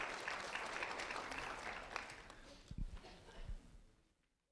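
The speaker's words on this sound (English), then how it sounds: "A round of applause for Maria McNabb." Audience applause at an award ceremony for a 4th-grade student: continuous clapping from a crowd with a few footsteps and thumps near the end as it tapers off.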